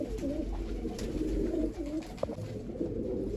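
Pigeons, among them a red-shouldered bird, coo steadily and close by as they are sorted and released, a low continuous burbling that runs the whole time with soft rustling beneath.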